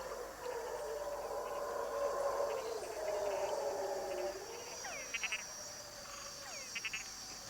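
Frogs calling at night, a nature-documentary recording of a dense, continuous chorus of croaks and trills with short repeated pulsed calls standing out near the end, at moderate level.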